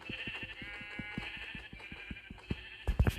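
A Minecraft sheep bleats in a quick, regular rhythm, followed by a few louder thumps near the end; no one speaks.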